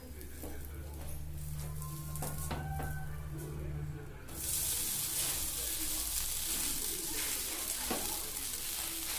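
A dosa cooks on a hot pan after flipping, first a low sizzle under a humming background with scraping, then a sudden loud, steady hiss close by.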